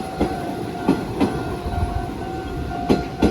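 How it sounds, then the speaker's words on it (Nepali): Train moving past a station in Dazaifu, Fukuoka, Japan, with a steady rolling rumble and a few periodic clacks of wheels over rail joints, fairly close and continuous with no talk. "यो अब ट्रेन आउँछ"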